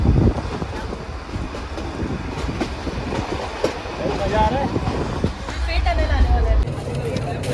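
A toy train on the Ooty hill line rumbles and clatters along close by, wheels clicking over the rails as it slows into a station, with a murmur of passengers and voices over the noise.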